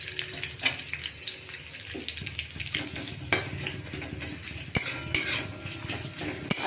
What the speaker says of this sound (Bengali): রসুনটা ফোড়নে দিয়ে দিলাম। দেখো, কুচিয়ে রাখা পেঁয়াজ এর মধ্যে দিয়ে দিই।